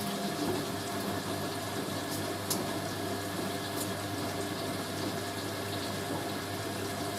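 Hoover A3060 washing machine taking in water for its rinse cycle, a steady continuous hiss and gush of filling water with a low hum underneath, even and unbroken throughout.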